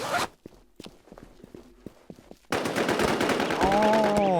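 Bursts of automatic gunfire in a battle royale shooter crackle loudly and continuously through the second half, after sparse single shots and footsteps earlier, with a rising whine near the end.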